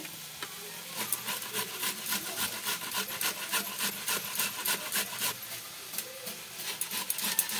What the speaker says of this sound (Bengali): এইভাবে মূলোটা ওই ঝিরিঝিরি করে বানিয়ে নিচ্ছি